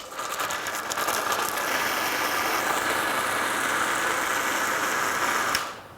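A kitchen grinder whirs steadily, blending a green hariyali marinade for paneer tikka, a loud continuous motor drone that runs for several seconds and cuts off abruptly near the end.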